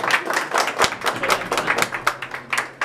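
Scattered hand clapping from a small group at a birthday party with a youth mariachi band, uneven and moderately close, rising and falling in bursts for a few seconds.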